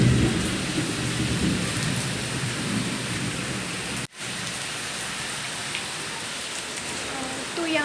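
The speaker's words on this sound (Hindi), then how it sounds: "बहुत ही ज़्यादा बारिश हो रही है" Heavy daily rain pours down steadily in a dense, close hiss with scattered drops striking surfaces, breaking off for a brief moment near the middle before resuming at the same intensity.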